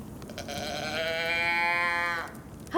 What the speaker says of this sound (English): It does sound like a cow.